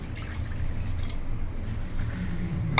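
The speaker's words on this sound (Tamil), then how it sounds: "இந்த இளநீரை வேறு பவுலுக்கு மாற்றிடலாம்." Tender coconut water is poured from one bowl into another, a steady close trickle and splash of liquid without talk.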